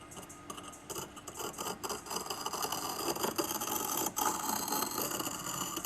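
A steel divider point scratches a 30 mm circle into silver sheet, making thin, raspy scraping strokes that come in uneven bursts close up and fairly quiet, with no voices.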